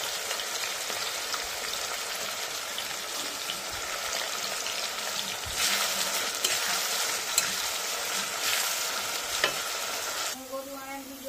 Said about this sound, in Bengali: বন্ধুরা পেঁয়াজটা আমাদের ভাজা হচ্ছে, লাল লাল করে ভেজে নেব।